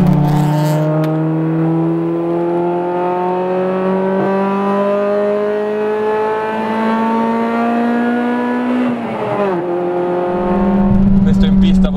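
A Honda Integra Type R engine revving hard while driving, its steadily rising tone climbing through a gear to the limiter, a brief dip at the shift, then climbing again, loud and close.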